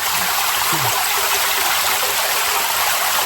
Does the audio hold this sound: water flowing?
yes